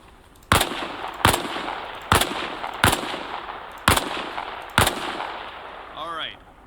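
Gunfire from the video game Arma Reforger during a training session behind a wall: six sharp, loud single shots spaced roughly a second apart over a faint background hum, ending with a brief electronic chirp.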